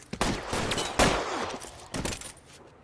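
A burst of gunshots in the video game L.A. Noire during a robbery shootout, several sharp loud cracks in quick succession, close, fading toward the end.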